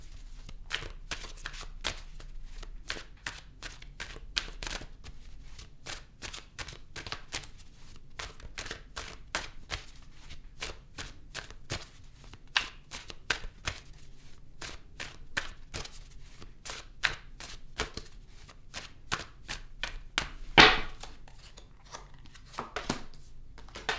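Tarot cards are shuffled in a long run of quick, crisp riffling flutters and soft slaps, repeating steadily and close, with a brief louder rustle near the end.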